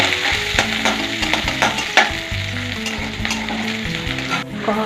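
Sliced onions fry in hot mustard oil in a kadai, a loud, dense, continuous sizzle with crackling pops and a few clanks of a spatula against the pan, close up with no talking.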